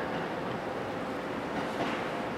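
A JR 209 series commuter train pulls into Ichikawa station, a low steady rumble of wheels on rails with a faint hiss, no voices over it.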